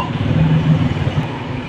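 Loud, rough motorcycle exhaust roar passing by, sustained and close, with no voices.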